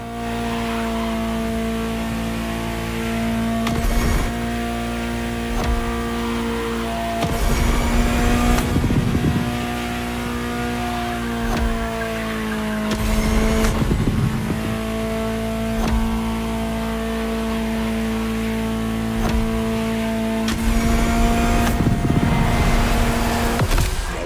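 A Ferrari supercar engine drones steadily while driving in The Crew Motorfest racing game, with a strong constant tone that swells under repeated acceleration and gear-shift surges, no talking.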